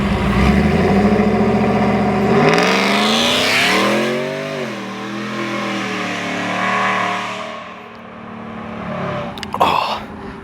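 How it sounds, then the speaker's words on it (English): A Gen 6 Ford F-150 with a 3.0L engine and Whipple Stage 2 supercharger revs hard and accelerates, its loud rising roar climbing in pitch, then fading as it pulls away, ending with a few faint sounds. "The Stage 2 Whipple Supercharger Kit on the Team Lethal F-150 giveaway truck."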